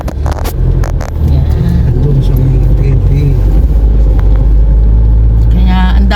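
Heavy road traffic rumbles close by with a deep, continuous engine drone, vehicles passing and revving, and a few sharp knocks early on, while people talk over it.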